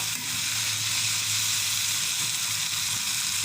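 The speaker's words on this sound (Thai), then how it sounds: "ทอดไปทอดไปเรื่อย" Fish and chips deep-frying in hot oil, a loud continuous sizzle and hiss that stays steady and close throughout, with no voices.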